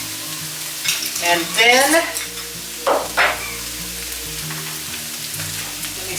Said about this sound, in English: I have bacon grease from the hog that we had. I usually put about that much in.